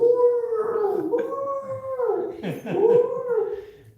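Dog howling in India, a single drawn-out wavering howl rising and falling for several seconds, close and fairly loud, with a brief dip midway before resuming.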